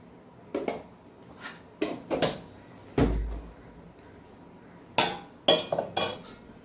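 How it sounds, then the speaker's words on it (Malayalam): Diced papaya is stirred with salt in a bowl, the spoon giving scattered knocks, scrapes and clinks against the dish in irregular bursts, close by, with pauses between strokes. "ഇത് നന്നായി ഇളക്കി ചേർക്കണം."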